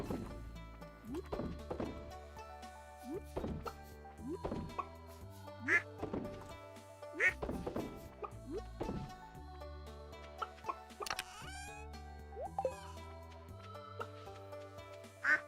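Duck quacking in the video game Stardew Valley: several short quacks spaced out over bouncy, tonal background music, with occasional soft thunks, fairly near and clear above the tune.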